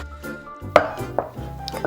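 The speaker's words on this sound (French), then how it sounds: "on va prendre le dos d'une casserole, on va écraser le poivre mignonnette" Peppercorns crushed under the back of a saucepan give a few sharp metallic knocks and gritty crunches, close and irregular, in a quiet kitchen.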